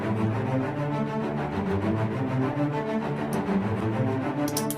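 Epic orchestral track with driving staccato strings in a fast even pulse, dense and loud throughout, with a couple of bright percussive accents near the end.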